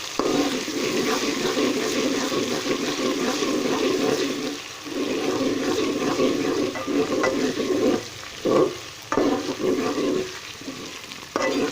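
Ginger, garlic and green chili paste fries with onions in a pan for a chana dal, giving a steady, close sizzle with stirring scrapes and a few short breaks, no talk.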